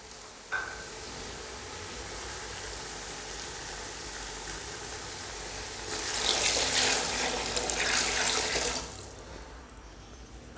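About 1.5 litres of water poured into a pan of fried vegetables for restaurant-style vegetable fried rice, a brief knock at the start, then a rushing splash for several seconds that fades near the end, with no voices.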